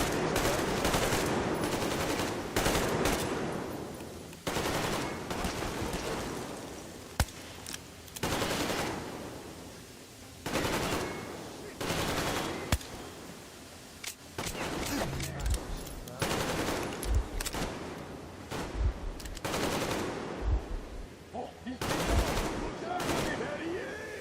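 Gunfire in the video game Metro Exodus: loud bursts of automatic fire and single shots, repeated in clusters with short pauses, with faint voices in between.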